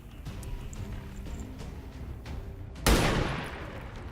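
A single sharp gunshot in a turn-based tactical video game, loud and sudden after a few seconds of low background ambience, its echo fading away over the following second.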